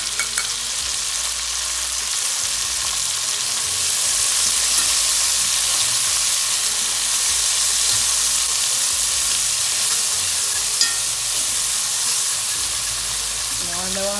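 Chopped carrot, sweet pepper, cucumber, garlic, tomato, onion and scallion frying in a pan, a steady loud hissing sizzle sustained throughout, with faint speech in the background.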